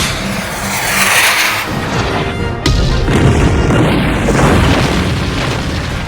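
Anti-tank rocket blast against a fire dragon in an anime battle; sustained roaring, rumbling noise with a sharp heavy boom partway through, loud and close.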